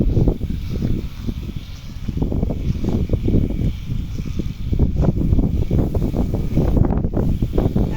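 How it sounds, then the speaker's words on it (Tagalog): Strong wind roars steadily and buffets the microphone, a constant low rumble with gusts that swell and ease throughout. "Grabe ka hangin jud mga kalabs. Hangin kaayo."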